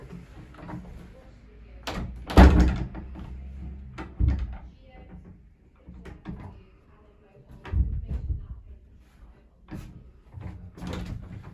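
An old wooden door, dipped and cleaned, is handled and refitted, giving irregular knocks, thumps and scrapes at close range, with people talking intermittently between the bumps.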